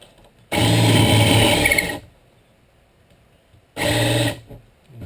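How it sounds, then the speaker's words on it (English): A Forstner bit drills a flat-bottomed hole in wood during a teardrop trailer build, giving two loud sustained whirring bursts, a long one and then a shorter one, separated by near silence. "Put the Forstner bit in there and hold it steady, and then get the Forstner bit started."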